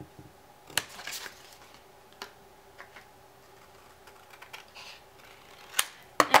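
Scissors cut apart a paper art journal page in a few separate crisp snips and rustles, close by, with quiet pauses between them and a quick cluster of cuts at the end.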